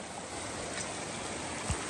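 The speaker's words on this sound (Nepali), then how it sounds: "साप्सु खोला भनेको लिखु खोलामा गएर निस्किने एउटा सानो खोला हो" Sapsu Khola, a small Nepalese mountain stream that feeds the Likhu river, flows with a steady, soft, even rush of water that stays constant throughout, with no voices.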